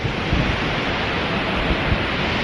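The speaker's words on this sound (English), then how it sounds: "We made it to the first stop of the day, which is the Skogafoss waterfall." Skogafoss, a huge waterfall in Iceland over 200 feet tall, seen in winter, gives a steady, dense roar of falling water that fills the whole clip at close range with no talking.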